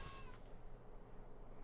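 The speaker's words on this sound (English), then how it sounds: "I don't know if you can hear my cat meowing in my window" A small cat meows at an open window on a hot, humid summer evening, a brief faint cry near the start over a steady, noisy room background.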